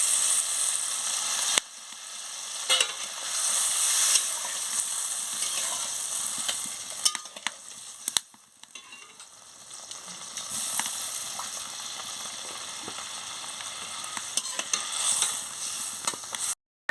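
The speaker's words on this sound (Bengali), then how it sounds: "এবারে আমি নারকেলের জলটা দিয়ে দিচ্ছি, নারকেলের দুধটা দিয়ে দিচ্ছি।" Shrimp malai curry sizzles and bubbles in a pan as coconut milk goes in, a loud close hiss with sharp crackles and stirring clatter, dipping briefly midway before the frying noise returns.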